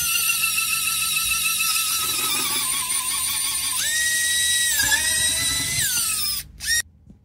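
A small high-pitched drill with a 1.4mm bit whines steadily, its pitch dipping as it bores a pilot hole into plastic, then spins down and stops abruptly.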